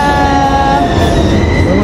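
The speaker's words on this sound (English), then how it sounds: "we are here waiting for this train that is coming right now" Gothenburg tram number 4 pulls into a stop with a loud, close rumble of wheels on rails and faint squeals of metal, continuous throughout with no talk.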